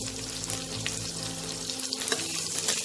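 Chopped onion, green chili, ginger and garlic fry in a pan with a steady, close sizzle and light stirring throughout.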